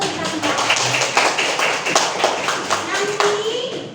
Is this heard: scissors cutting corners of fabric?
no